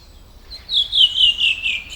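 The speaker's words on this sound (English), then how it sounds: "Come to me, my bird. Will you sing for me?" A bird sings in a continuous series of bright, high chirping notes, starting softly and swelling to a steady, fairly close warble that carries on without pause, with no talking.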